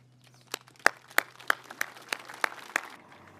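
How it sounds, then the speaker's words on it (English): Sparse applause at a medic memorial ceremony, a handful of distinct, evenly spaced claps ringing out in an open setting, fairly faint over a low steady hum, stopping after about three seconds. "Please join me in a round of applause for all those who continue to safeguard our history"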